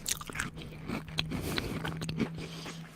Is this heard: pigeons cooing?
no